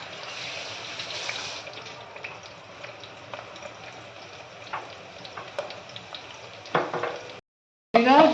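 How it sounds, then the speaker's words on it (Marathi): Chopped onions fry in oil in a pan for a Malvani-style chicken curry, giving a steady close sizzle for several seconds. A brief silence follows, then a louder burst of crackling. "चांगला भाजून घ्यायचा कांदा."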